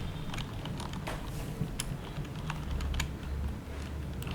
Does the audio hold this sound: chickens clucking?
no